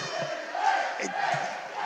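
Supporters of a roller hockey club chant and cheer together in an indoor arena during a Serie A1 match, producing a sustained, echoing crowd roar with rhythmic vocal swells.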